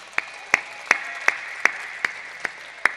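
Audience members at a Hindi poetry gathering clap in unison, eight sharp, evenly spaced claps in a slow steady beat over a quiet room.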